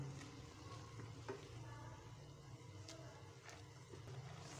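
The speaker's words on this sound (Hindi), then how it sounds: "इस तरह से चम्मच चलाते जाना है क्योंकि ये नीचे लगने का ख़तरा होता है।" Milk reduces in a pan for khaskhas halwa, and a spoon is stirred through it continuously. Faint scraping and soft bubbling sit under a low steady hum.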